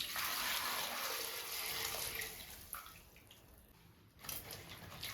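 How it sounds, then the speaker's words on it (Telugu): Broad beans being rinsed in salted water in a basin, with continuous splashing and running water, louder at first, dipping quieter mid-way, then picking up again briefly; no voices. "సాల్ట్ వాటర్లో 2 సార్లు శుభ్రంగా చిక్కుడుకాయలు కడిగాక"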